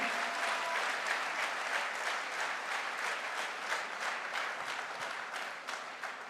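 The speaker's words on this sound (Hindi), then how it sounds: "अरे बड़ी ठंडी ठंडी सी तालियां बज रही है यार" An audience at a direct-selling promotion event claps steadily. The applause is fairly faint and evenly sustained throughout, with individual claps blurring into a continuous patter.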